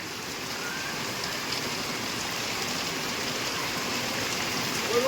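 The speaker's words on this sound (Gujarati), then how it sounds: "બહાર આવતા જ જોવામાં આવે છે આપણને કે જબરદસ્ત વરસાદ ચાલુ છે." Heavy rain pours outdoors in a steady, dense hiss of countless drops beating on surfaces, loud and continuous with no let-up and no voices.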